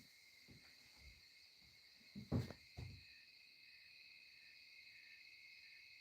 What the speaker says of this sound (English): I think owls are just so cool,